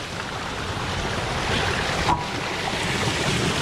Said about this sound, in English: That's really got that water moving now.